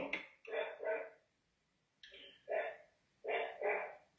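A dog barks in three short bursts of two or three barks each, separated by pauses. The barks are moderately near and clear, with no talk over them.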